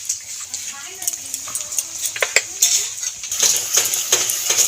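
Ground coriander, cumin and black pepper being stirred and fried in a pan for cauliflower curry, with a bright continuous sizzle and repeated spoon scrapes and clinks against the pan.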